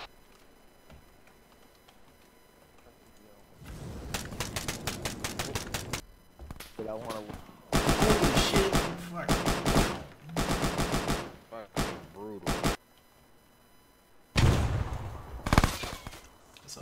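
Bursts of rapid automatic gunfire from an Arma military simulation firefight on Malden, several loud volleys separated by short pauses, with quieter single shots and faint voices between them.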